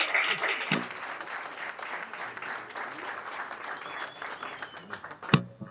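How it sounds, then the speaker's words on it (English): Sustained applause from an audience at a learner awards ceremony for a technical institute in Roodepoort, steady and full throughout, ending with a sharp close thump. "A big round of applause again for Aubrey."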